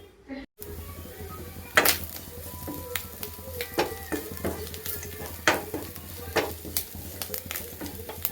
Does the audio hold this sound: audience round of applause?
no